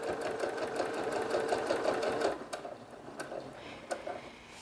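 A sewing machine stitches straight quilting lines guided by a straight ruler foot, its steady close mechanical whir running alone for about two seconds before easing into quieter, intermittent stitching with light clicks.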